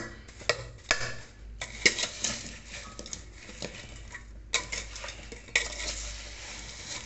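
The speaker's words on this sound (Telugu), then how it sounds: "ఇలా చక్కగా అంతటా ఉప్పు పసుపు అంటేలాగా బాగా కలిపేసుకోవాలి" Lemon pickle with salt and turmeric is stirred in a metal vessel, producing loud, irregular scraping and clinking strokes with short pauses between them, close up and with no talking.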